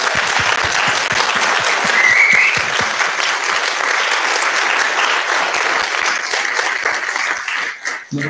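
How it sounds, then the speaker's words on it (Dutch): An audience at a zine presentation in a literary venue gives the organisers a hearty round of applause, loud and sustained before thinning out near the end, with scattered voices mixed in. "een heel groot applaus voor de organisatie van What You See"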